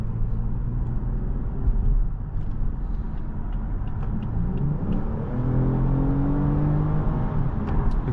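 A 2025 Lexus ES 350 accelerating from inside the cabin, a steady, moderately loud engine hum and road rumble with rising tones as it gains speed, no talking.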